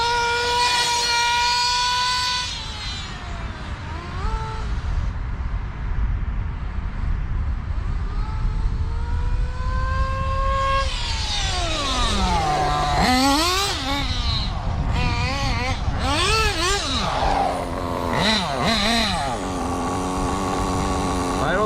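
A Kyosho Inferno NEO 3.0 RC car runs during break-in, its small engine droning and repeatedly revving up and down in rising and falling whines, loud and steady throughout.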